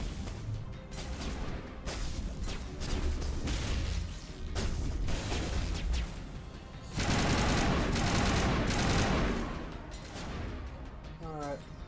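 Rapid bursts of automatic gunfire in Mass Effect at a dig site, clustered volleys with a louder sustained barrage midway, while a person talks between shots.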